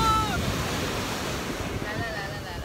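Sea waves wash onto a Barcelona beach in a continuous wind-blown surf roar, close and fairly loud, with faint voices in the background.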